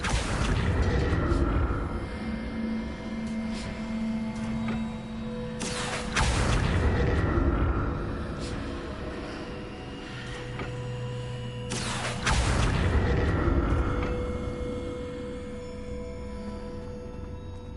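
Confringo blast spells in the Hogwarts Legacy video game go off as three loud, booming bursts spaced about six seconds apart, each followed by a decaying rumble over a constant low game ambience.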